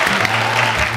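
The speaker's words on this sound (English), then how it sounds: "Let's give him a round of applause." Brief burst of applause for a guest on a podcast set, loud and close, a thick continuous clatter of clapping lasting about a second.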